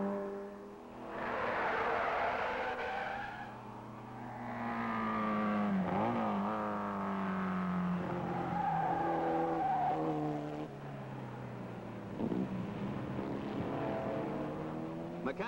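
1962 race cars at Mosport roar through a corner on an oily track, engines rising and falling as they pass, with tires skidding and squealing on the slick surface.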